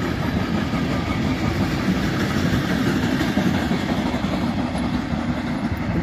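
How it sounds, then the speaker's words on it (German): A rented MRCE Vectron electric locomotive hauling a container train of flat wagons through Gemünden am Main station, a steady, loud rumble of passing wagons with faint rhythmic wheel clatter throughout, no voices. "Da war das Ganze eine von Boxpress angemietete MRCE Vectron mit ihrem Containerzug."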